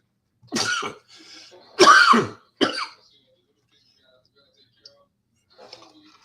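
A few harsh coughs and throat clearing, close and loud, in short bursts over about three seconds, followed by quiet with faint small noises.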